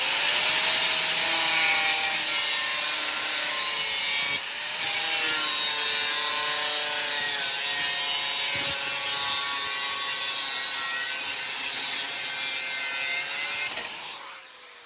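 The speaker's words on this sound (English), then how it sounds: "I turn my guard around my grinder" Angle grinder cutting the tips off the blades of an Allen 24-inch walk-behind concrete trowel edger, a loud continuous high-pitched metal-cutting whine and grinding that persists throughout, with a brief dip midway before spinning down at the end.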